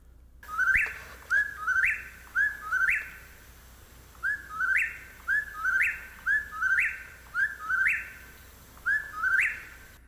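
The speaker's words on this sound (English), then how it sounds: "to give you an example of how the whippoorwill's call sounds" A whip-poor-will repeats its rhythmic, whistled three-part call about a dozen times in steady succession, clear and fairly close against a quiet night background.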